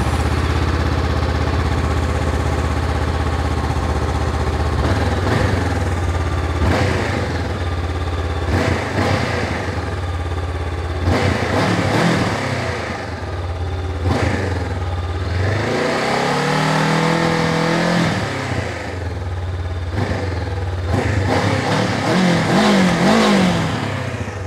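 Engine of a 2022 Honda CB500X motorcycle while riding, a steady near droning hum with repeated rises and drops in pitch as it accelerates and shifts, wind rush underneath throughout.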